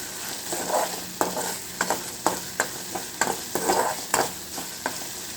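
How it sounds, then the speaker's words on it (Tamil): A cabbage manchurian mixture being stirred in a pan, close rhythmic scrapes and knocks of the spoon about every half second over a soft sizzle. "நல்லா கலந்து விட்டுக்கோங்க"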